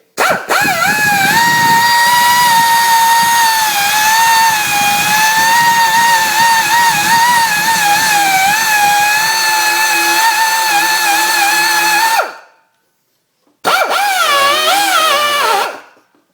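A die grinder cuts into a Polaris Sportsman 500 plastic air box with a steady, high-pitched whine that runs about twelve seconds, stops briefly, then resumes for a short final burst.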